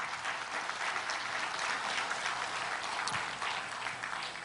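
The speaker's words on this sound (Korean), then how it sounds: "법원장님께 그러면 박수 한번" Sustained applause from a lecture audience in a Busan court hall, honoring the court president; dense steady clapping that fills the whole stretch with a crowd-wide wash, without voices.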